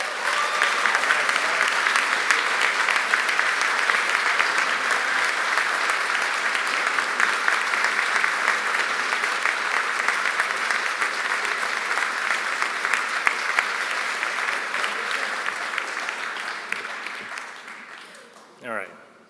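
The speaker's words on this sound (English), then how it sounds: "Let's give a round of applause for Doug and show him our appreciation." Sustained, loud applause from a commencement audience at an Oregon Executive MBA graduation ceremony, steady dense clapping that holds for many seconds before tapering off near the end.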